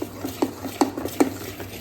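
Asafoetida being stirred into vatidal khaman batter, with three evenly spaced spoon clicks against the bowl over a soft, steady scraping; no voices.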